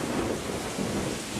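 A thunderstorm with steady rain, a dense continuous wash of rainfall and low rumbling thunder throughout, loud and enveloping, with no voices.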